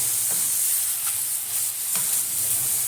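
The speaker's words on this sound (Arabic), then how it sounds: "هقلبها كده تقليبه كويسه اهو" Spices are stirred in a hot frying pan, with a constant close sizzle and a few soft scraping strokes from the stirring.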